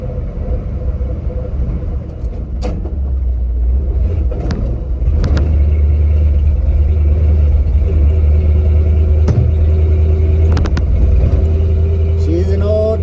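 A 1970 Ford 600 hay truck drives along, its old engine laying down a steady low rumble with occasional sharp clicks and knocks over the top, the drone rising slightly after the first few seconds and holding constant.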